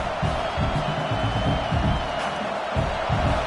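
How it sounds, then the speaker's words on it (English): A stadium crowd roars steadily at a college football game between SMU and the Tigers, a dense, rumbling wall of noise with faint cheers rising from it, loud and continuous. "And wow, listen to this crowd noise. This stadium is vibrating."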